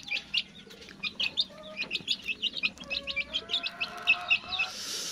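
Twenty-seven-day-old Sweater x Peruvian crossbreed chicks peeping in quick, high repeated chirps, a steady busy chorus close by with no talking.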